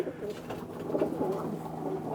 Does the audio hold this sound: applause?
no